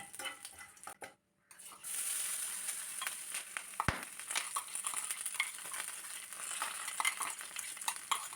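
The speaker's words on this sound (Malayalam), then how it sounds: "വറ്റൽമുളകും കറിവേപ്പിലയും എല്ലാം ഒന്ന് നല്ലവണ്ണം ഇളക്കി കൊടുക്കാം." Dried chillies, curry leaves and crushed coconut are stirred in a hot pan, giving a soft continuous sizzle with scraping and light utensil clinks, a brief quiet gap near the start, and no talk.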